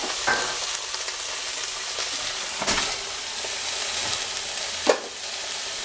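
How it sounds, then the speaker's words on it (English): Six pounds of ground turkey sizzles and fries in a hot pan, a steady close hiss with a few brief stirring scrapes and clatters. "we're going to add the 6 pounds of ground turkey directly to this hot pan"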